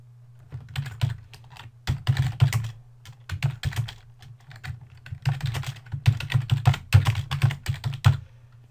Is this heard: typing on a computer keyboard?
yes